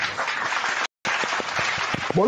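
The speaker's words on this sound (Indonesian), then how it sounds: "Ayo teman-teman penonton, kita tepuk tangan buat narasumber kita dari Kristen." A studio audience at a live religious debate broadcast claps for a Christian guest, a steady burst of many hands that cuts out briefly and then resumes, with scattered louder claps near the end.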